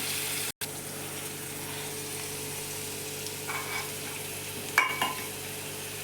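Spice paste for a dry soybean curry frying in a pan, a steady soft sizzling hiss over a low hum with a brief dropout early on and a couple of faint stirring scrapes near the end.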